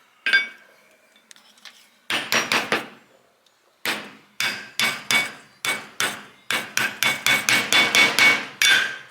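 Repeated metal hammer blows on impact sockets while 1957 GMC kingpins and bushings are replaced, one ringing strike, then a run of sharp clanging hits in bursts, loud and close with no talk.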